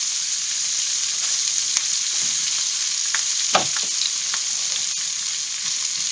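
Garlic, chili and onion stir-frying in hot oil for fried rice, a steady loud sizzle throughout with occasional scraping and tapping of the spatula against the pan.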